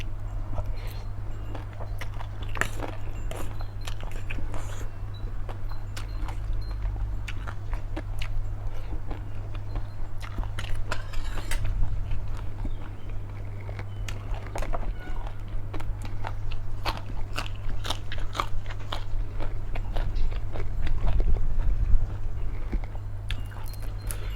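Spicy Lao-style papaya salad with rice noodles and crispy pork rinds being eaten up close, with steady crunchy biting and chewing throughout and a constant low hum underneath.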